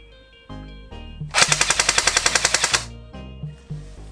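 JG Star Dragon airsoft gun firing on full auto, a single rapid burst of about fifteen evenly spaced sharp cracks at roughly eleven per second, close and loud, with faint mechanical clicks before and after.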